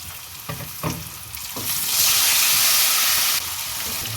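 Onion sizzles in a pan with garlic-ginger paste, starting with a few stirring scrapes and then rising into a loud, steady frying hiss for most of the clip, heard alone and close.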